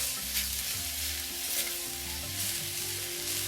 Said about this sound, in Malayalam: ഇനി ഇത് ഒന്നും കൂടി ഇളക്കുകയാണ്.